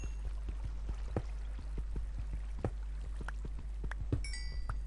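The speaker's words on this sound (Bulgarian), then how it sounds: "Чувам вода." Water trickling and dripping in a survival video game, a steady pouring texture with scattered light drips and clinks throughout, moderately quiet with no talk.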